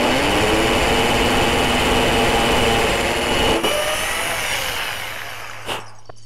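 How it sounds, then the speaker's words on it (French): A power drill with a small 3 mm bit bores straight through a wooden nunchaku handle, a loud continuous whine for several seconds that cuts off and fades into quieter rattling. "on va prendre la perceuse avec un foret de 3 pour commencer, donc le plus petit, et on va percer donc de part en part"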